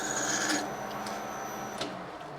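A hand file rasps at a chamfer near a weld on a Suzuki RM250 part. Quiet, close scraping strokes come with a couple of brighter passes.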